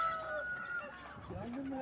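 Rooster crowing amid clucking chickens at a Konya poultry market, with turkeys and pigeons also on sale; the calls sound close under a steady murmur of bargaining voices, and people talk throughout.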